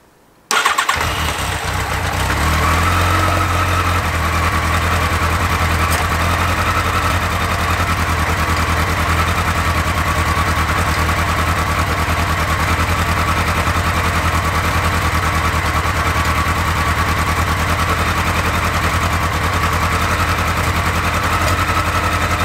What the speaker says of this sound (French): Bon, globalement, elle tourne. Mais il y a pas mal de petites pétarades.